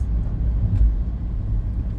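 Low, steady engine rumble of a car driving on a highway in the middle lane, heard from inside the cabin, loud and continuous with no speech.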